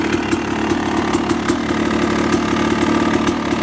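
A 2015 KTM 300 dirt bike engine buzzes loudly and close, a steady raspy two-stroke idle with rapid rhythmic pulsing and small throttle flutters, no voices.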